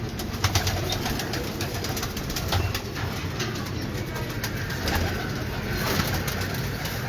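Ferozpuri pigeons coo steadily amid a dense, continuous flock murmur, with occasional rustling and wing flutters nearby, in Gowalmandi, Lahore.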